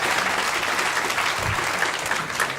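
A theatre audience at a live podcast recording applauds, a dense, steady wash of clapping from many hands that fills the whole moment.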